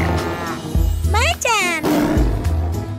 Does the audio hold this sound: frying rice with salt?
no